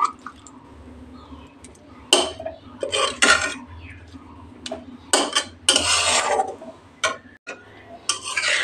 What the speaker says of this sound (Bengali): আমি কিন্তু একদম হালকা হাতে খুব সুন্দর করে মিক্স করে নিয়েছি